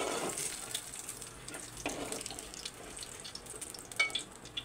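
Garlic cloves frying in hot oil left from curry leaves and green chillies, a steady soft sizzle with light stirring scrapes throughout, no voices.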